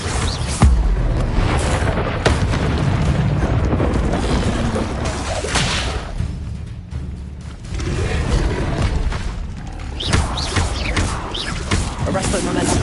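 Confringo blasting-spell explosions from Hogwarts Legacy: heavy, rumbling booms layered over continuous game noise, loud throughout with a brief dip midway.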